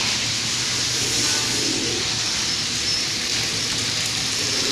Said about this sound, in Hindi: कबूतर बहुत खुश है यार